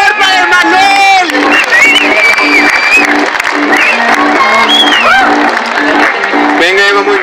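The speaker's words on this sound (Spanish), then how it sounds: "¡Un aplauso, por favor, para Emanuel!" A crowd at an urban highline competition claps, cheers and whoops for a competitor, loud and continuous, with shouted voices mixed in.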